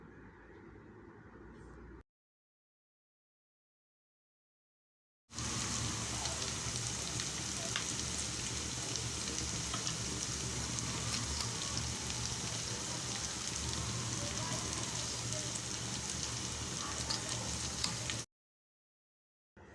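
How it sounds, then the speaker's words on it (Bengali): Raw mango pickle stirred in a pan over heat, giving a steady close crackling sizzle that runs without a break for about thirteen seconds after a short quieter stretch and a pause of silence. "ভালোভাবে নাড়াচাড়া করে দিচ্ছি।"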